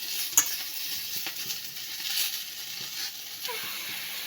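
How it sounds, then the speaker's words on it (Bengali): Pui shak greens frying in a pan, a soft hiss with light crackles and a few stirring scrapes, quiet and close, no talking. "শাকটাও ভেজে নিই"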